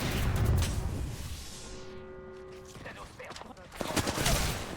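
Bursts of gunfire from the battle royale game Apex Legends, with loud rapid shots at the start and again near the end and quieter tones in between, heard alone without talk.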